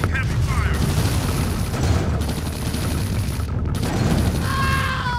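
Video game battle with dense, continuous gunfire and explosions, loud and sustained, with faint tonal game effects layered over the barrage.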